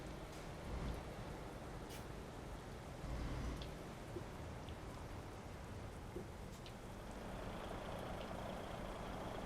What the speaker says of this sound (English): It's just started raining as well, look.